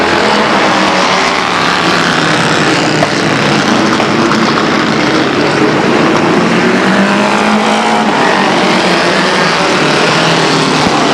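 A vintage race car on a 1967 Benson chassis with a Chevy 200 CI engine roars steadily at a speedway, its loud, continuous engine noise filling the track without letup and with no voices.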